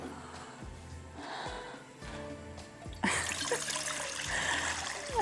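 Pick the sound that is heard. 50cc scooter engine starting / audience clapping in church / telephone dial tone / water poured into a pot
water poured into a pot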